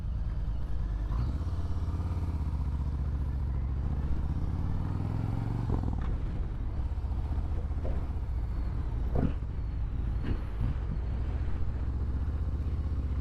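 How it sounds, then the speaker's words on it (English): A motorcycle rides along the road with wind rushing past. A steady, close engine drone and buffeting wind noise carry throughout, with one pitch rising for a few seconds and occasional clattering knocks. "it feels so good to be on this bike with the wind blowing through my jacket"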